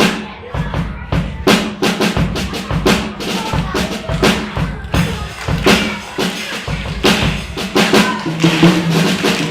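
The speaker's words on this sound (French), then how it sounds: "il va vous faire un petit peu de batterie, car ça fait partie des percussions" A drum kit is played live in a percussion demonstration at a children's concert, with sharp, rapid snare and tom hits over booming kick-drum thumps and cymbal crashes in a lively, irregular rhythm.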